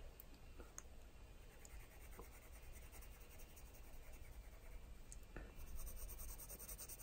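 A WHSmith coloured pencil scratches steadily across paper at close range, a soft continuous rubbing scrape with a few sharper taps, quiet and alone.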